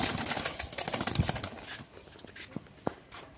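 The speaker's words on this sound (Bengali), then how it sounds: "কবুতরগুলো খুব ছটফটে" Restless pigeons flap and flutter close by, with quick bursts of wingbeats and soft coos that thin out to a few scattered taps and rustles.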